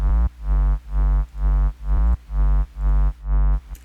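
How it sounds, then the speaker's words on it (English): A deep synthesized bass line for an EDM track made from microwave sounds, pulsing loudly in about seven regular, swelling throbs with a pumping rhythm. "And then this is our bass."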